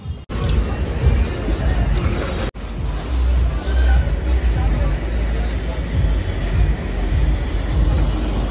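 Metro train running past outside a house, a loud continuous rumble and rattle of rail cars filling the whole stretch with steady roadside noise beneath.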